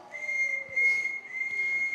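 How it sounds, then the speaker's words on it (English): A whistle blown in a steady, shrill, sustained tone lasting about two seconds, clear and fairly close, with no talking over it. "A whistle. Bit theatrical, isn't it?"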